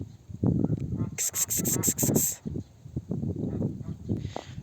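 A run of about six quick, nasal goose honks rises over people talking nearby, then fades back under the conversation.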